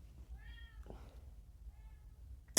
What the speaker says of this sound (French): Le chat, Phoenix.